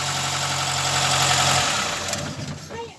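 The Pinto engine of a classic Ford Transit motorhome runs with a steady, loud rattling drone, then winds down toward the end.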